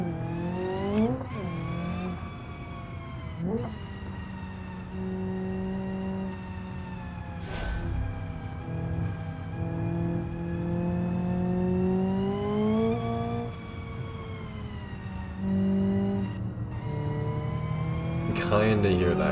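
Race car in BeamNG.drive at Hirochi Raceway, its engine revving and climbing through gear shifts with sharp pitch drops, loud and continuous, with a voice talking over it.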